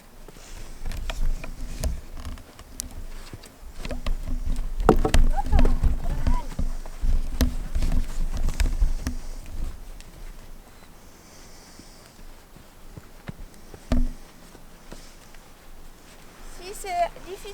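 A horse working over ground poles in an arena gives off a series of rhythmic hoof clops on soft footing, moderately near, while a person talks throughout and a louder knock sounds near the end.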